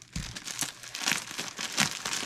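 A crinkly plastic bag inside a fabric parcel rustles and crackles steadily as it is worked open with scissors, the close crinkling rising and falling in repeated bursts.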